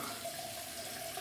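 Faint, steady running tap water while a shaving brush is soaked for lather with shaving soap, a soft continuous hiss with no voices.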